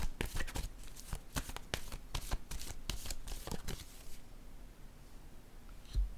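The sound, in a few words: tarot playing card being laid down on a table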